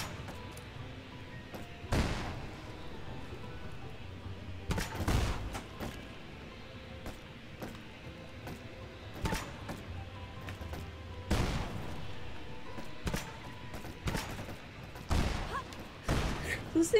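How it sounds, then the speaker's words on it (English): Grenade launcher firing in the video game Temple of Osiris, several sharp booming blasts at irregular intervals, some in quick pairs, amid game effects. "Okay, here's a grenade launcher."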